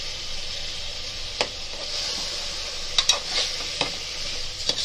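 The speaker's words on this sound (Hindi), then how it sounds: "अभी दाल को इसी के साथ अच्छे से भुनेंगे।" Soaked lentils being stir-fried in a pan with ginger, garlic and tomato for a spinach dal: a steady soft sizzle with a few sharp spoon clinks and scrapes, heard close up with no talking.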